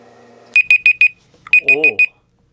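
Meditation timer alarm going off in two quick bursts of four sharp electronic beeps separated by a short pause, loud and close, with a brief voice murmuring during the second burst.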